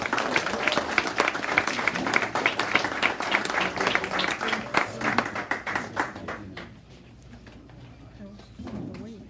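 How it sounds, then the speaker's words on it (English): A crowd claps steadily for several seconds before the applause thins out and fades, with some voices mixed in. "Give him a big round of applause."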